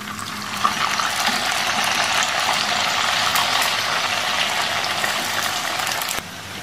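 Noodles deep-fry in hot oil over a high flame until crispy, giving a loud, steady, close-up sizzling roar that holds constant before dropping off abruptly near the end.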